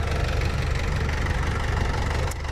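A six-wheel truck engine idles steadily with a low rumbling throb, close and continuous, no voices.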